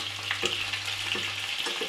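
Chanterelle mushrooms fry in sour cream in a pan with a little oil, giving a steady, close sizzle with soft stirring scrapes and no talk.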